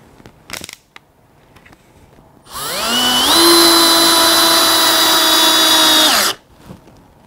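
A Bosch GSR 10.8-2-LI Professional cordless drill driver driving a screw, one steady motor whine of nearly four seconds that rises slightly in pitch, loud and close, with small handling clicks before and after.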